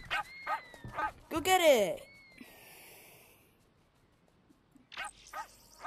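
A Labrador dog barks and yips several times close by, with excited whimpering between bursts, as a person speaks to it briefly.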